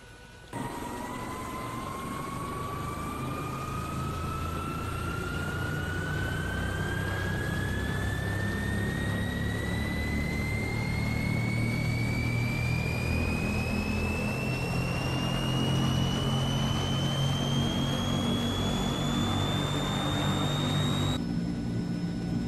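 A Transall military transport aircraft engine spins up, its whine rising steadily in pitch over a loud continuous turbine roar and rumble for about twenty seconds, with no speech.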